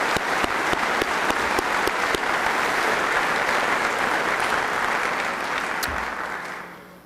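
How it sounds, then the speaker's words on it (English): An audience gives a sustained round of applause at MIT Technology Day 1996, with dense, steady clapping from a large crowd that tapers off toward the end. "let's give them a round of applause anyway"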